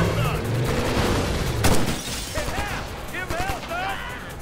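Gunfire bursts and booms from the video game Ghost Recon Future Soldier, a dense volley in the first second and a half, then a sharp blast, followed by scattered shots under talking voices.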